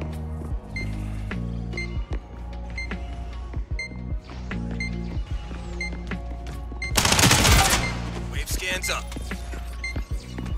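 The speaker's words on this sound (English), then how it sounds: "This gun's full auto." A full-auto gun fires in the shooter Spectre Divide, rapid sharp shots stacking amid game clicks and chimes, with one dense loud burst of fire near the end, while players talk over the action.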